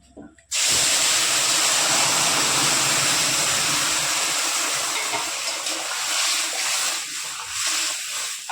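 Masoor dal poured into hot oil tempered with whole cumin bursts into a loud, sudden hissing sizzle that stays strong and steady, then slowly eases and turns more uneven, heard up close.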